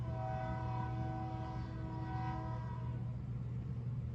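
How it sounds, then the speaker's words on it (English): A train passes outside a room, its steady low rumble and sustained horn-like tones lasting throughout at moderate, slightly distant loudness, with no talk. "And excuse that train."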